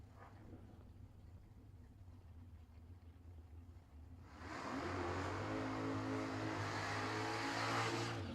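A drag race car launches down the strip at a no-box drag racing event, a quiet idle giving way halfway through to a loud, sustained roaring engine.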